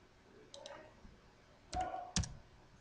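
Clicks of a computer keyboard as a web address is entered, a few separate quiet taps spread out then a slightly louder short cluster near the end, with no talking.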